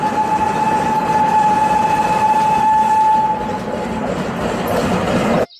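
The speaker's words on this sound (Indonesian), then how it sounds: "di sini ada kereta Thomas" A Thomas toy train runs with a steady rolling rumble and a thin sustained whistle-like tone, fairly loud and close, before cutting off abruptly near the end.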